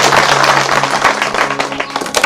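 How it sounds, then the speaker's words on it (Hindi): An audience claps for a respected local leader arriving as chief guest at a village gathering in a Bundeli film, a dense, steady wash of applause that holds for the whole moment without letting up. "एक बार फिर से तालियां हो जाए।"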